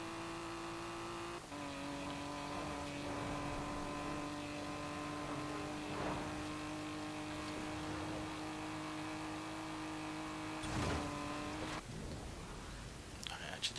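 A 1957 Maserati 300 S in Forza Horizon 4 drones at a steady high engine pitch, sustained at speed with a brief shift dip and a small gear change near the end, moderately quiet.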